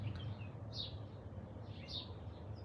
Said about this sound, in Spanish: Escucha el canto de los pájaros cuando se van a acurrucar.